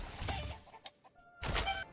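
Chickens cluck in short bursts in the medieval strategy game Manor Lords, with a couple of sharp calls between louder stretches of clucking, fairly close and with no talk over them.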